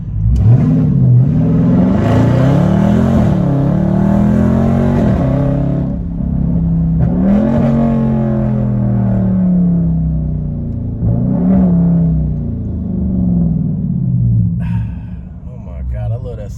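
V8 engine of a 2021 Widebody Scat Pack Dodge Charger revving and accelerating, a deep loud rumble with repeated rising pitch sweeps and brief lulls, heard close over about sixteen seconds, with some talking late on.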